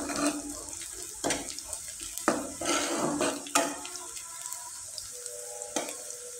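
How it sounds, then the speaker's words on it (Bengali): Onion frying in a pan is stirred with intermittent scraping strokes over a soft, steady sizzle, fairly quiet and close. "এদিকে পেঁয়াজটা কিন্তু খুব ভালোভাবে একটু নেড়ে চেড়ে দিতে হবে।"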